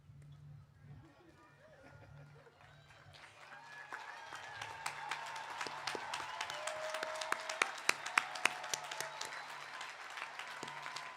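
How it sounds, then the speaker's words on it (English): A graduation commencement audience at LIU Post applauds the graduates, the clapping starting softly and swelling after a few seconds into dense, sustained applause from a large crowd with a few sharp louder claps. "give them a round of applause for everything they've done for you"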